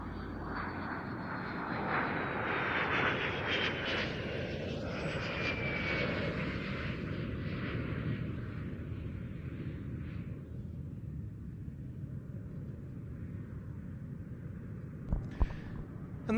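A De Havilland Vampire FB6 with a single Goblin 3 turbojet flies past at an evening air display at Duxford, a loud, sustained roaring jet rumble with a high whine that slowly fades as it passes, no talk over it.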